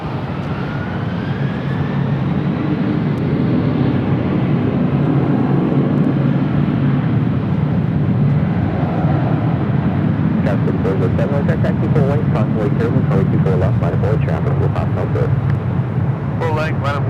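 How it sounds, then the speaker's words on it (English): An Air Tahiti Nui Boeing 787 Dreamliner, Flight 8 bound for Paris, takes off at Los Angeles airport with a loud sustained engine roar, while someone talks over it and clicking noise enters toward the end. "Air Tahiti Nui, the Dreamliner heading to Paris, Flight 8, heading up here for north side at takeoff"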